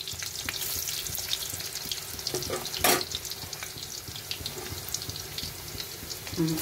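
Onion goes into a pan of reddened frying potatoes, a loud steady sizzle with stirring scrapes and a sharp burst of crackling partway through, close and without talk.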